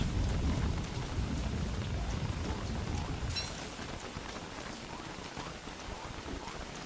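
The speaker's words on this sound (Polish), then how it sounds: "Czemu tyle tego deszczu musi być?" Steady rain in the Don't Starve video game, a dense continuous hiss with a heavier low rumble early on that eases midway, no voices over it.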